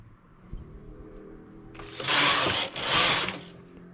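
An industrial knitting machine working rows of a flared yarn skirt, a quiet mechanical rattle that swells into two loud whooshing carriage passes near the end.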